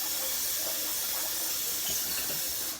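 Tap water runs into a bathroom sink while a shaving brush is rinsed under it, a steady close splashing hiss lasting the whole stretch with no talking.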